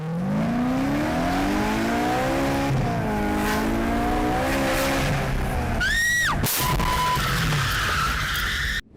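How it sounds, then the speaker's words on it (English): A speeding car crashes into a taxi. Continuous engine and road noise builds to a sharp tire squeal and an abrupt crash, and quieter rumble follows. "A speeding car slams into a taxi."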